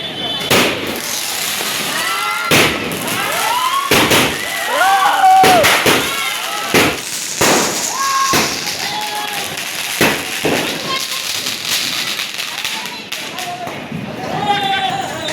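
Rapid, loud bangs of aerial sky-shot firecrackers at Diwali burst repeatedly, sharp cracks spaced irregularly, with people talking and shouting in between.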